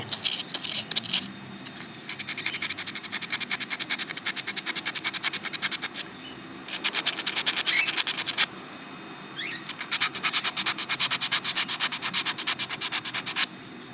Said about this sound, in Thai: เดี๋ยวจะลองขัดกระดาษทรายตรงนี้ดู